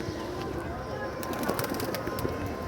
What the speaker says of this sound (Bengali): সবগুলো কবুতর বের হয়ে গেছে